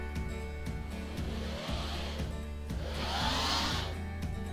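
An 8-burner induction hob in a kitchen showroom gives off a continuous electrical whine and fan-like whir, with layered steady tones and a rising airy swell near the end, close and without speech.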